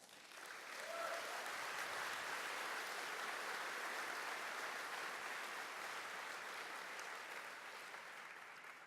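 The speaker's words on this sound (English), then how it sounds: "let's applaud that" Sustained audience applause at an outdoor arts gathering's closing remarks, a dense steady wash of many hands clapping that holds at a fairly even level for the whole stretch, moderately distant.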